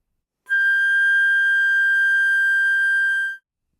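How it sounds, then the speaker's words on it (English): A flute plays a single third-octave G natural as a pure, steady, whistle-like high tone. The note is held alone for about three seconds with a clean start and end. "To finger G natural in the third octave"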